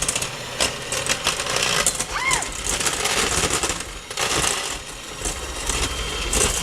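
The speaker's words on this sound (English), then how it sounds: "we're going to mix those with a hand mixer" A KitchenAid hand mixer beats baking ingredients in a bowl, a continuous buzzing, rattling motor whir that stays fairly loud and close throughout, with slight surges as the beaters move.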